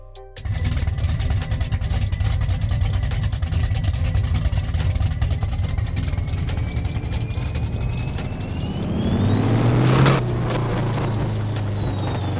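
A car engine in the No Limit Drag Racing 2.0 video game runs on a dyno, droning steadily, then climbing in pitch as it revs hard before dropping off, alone and loud throughout.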